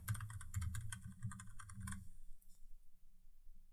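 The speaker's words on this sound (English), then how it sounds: "So type in thumbnail designer." Quick clattering keystrokes on a computer keyboard for about two seconds, close and crisp, then near silence.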